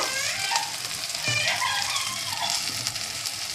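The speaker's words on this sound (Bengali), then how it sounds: "একটু মিট মশলা, একটু গরম মশলা দিয়ে আবার মশলাটাকে ভালো করে কষতে হবে" Masala paste with turmeric, chili and cumin powders, meat masala and garam masala frying and being cooked down in a pan, a steady close sizzle with faint crackles running throughout.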